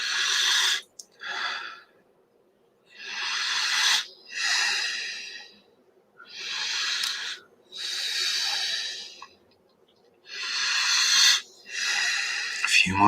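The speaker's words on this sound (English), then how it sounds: "Oxygenating fully, breathing deeply" Deep, rapid, forceful breathing during a guided pranayama breathwork exercise, loud rhythmic bursts of air in repeated rounds separated by brief pauses, close to the microphone.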